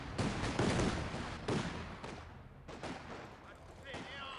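Gunfire in the WWII strategy game Company of Heroes 2 at Dunkirk: several heavy shots and explosive bursts, loud at first, then thinning into scattered reports and rumble with faint voices.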